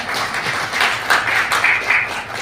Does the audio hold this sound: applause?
yes